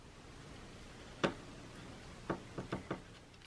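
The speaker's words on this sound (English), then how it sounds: "use the cutting edge on the pliers to cut this" Pliers snip fishing rig wire: one sharp, quiet click, then a tight cluster of four faint snaps about a second later, against a soft background hiss.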